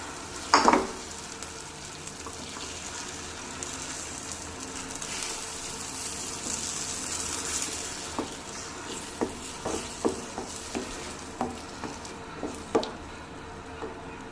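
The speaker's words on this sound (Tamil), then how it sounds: "இப்போ நம்ம எடுத்து வச்சுருக்கிற முட்டையை இது கூட ஆட் பண்ணி இதை நல்லா கிளறி விட்டுக்கலாம்" Beaten eggs are stirred into vermicelli biryani frying in a pan, with a soft sizzle under a series of scraping, tapping stirs that become more regular toward the end, near and alone.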